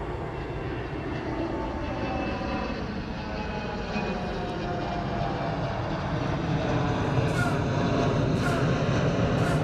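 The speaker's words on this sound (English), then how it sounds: "this next one in is Air New Zealand. It's a Dreamliner." Air New Zealand Boeing 787 Dreamliner landing at Honolulu airport, a continuous broad jet engine roar heard from a distance, slowly growing louder as the plane approaches.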